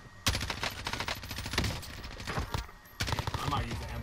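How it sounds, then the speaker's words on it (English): Gunfire in the video game Warzone: several loud, rapid bursts of automatic fire separated by short gaps, close and harsh, with a player's voice mixed in. "Who the fuck is shooting me right now?"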